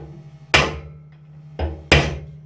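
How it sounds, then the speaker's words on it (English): A metal punch is hammered against a motorcycle steering head bearing held in a vise: three sharp, ringing metallic strikes, close and loud, the first alone and the last two in quick succession. "So all you do is you hit either side with your punch."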